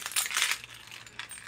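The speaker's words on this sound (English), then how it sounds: "I have my keys on here" Metal keys on a keychain rattling and clinking in a purse, a burst of bright jingling followed by a quieter shake, close by with no talking.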